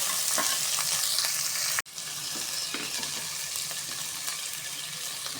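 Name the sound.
tomato sautéing in pan for mint rice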